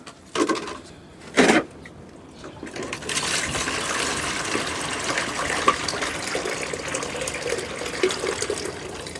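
A couple of brief splashes, then water pours steadily into a container, a continuous close rushing sound lasting several seconds.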